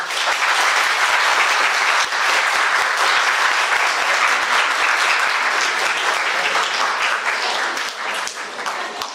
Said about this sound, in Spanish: un fuerte aplauso para la maestra